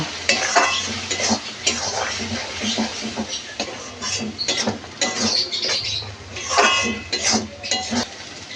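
Spice paste frying in a pan for katla fish kalia, with a spatula scraping and stirring in steady busy strokes over a continuous sizzle, close and fairly loud, no voices.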